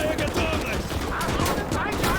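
Dense, continuous gunfire and explosions from the World War II video game Call to Arms: Gates of Hell on the Eastern Front, loud and unbroken, with a voice talking faintly underneath.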